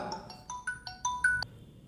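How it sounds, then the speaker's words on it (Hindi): WhatsApp video ringtone on a mobile phone announcing an incoming call: a short run of clear, bright electronic tones stepping through a melody, fairly quiet and close, with no talking over it. "तो अभी आप देख सकते हैं मेरे मोबाइल में व्हाट्सएप से कॉल आ गया है"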